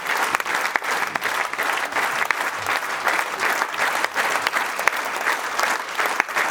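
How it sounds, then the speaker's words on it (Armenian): An audience claps at a music performance; dense, sustained applause from many hands continues steadily and evenly without pause. "Ես կխնդրեմ ծափերը չդադարեցնենք։"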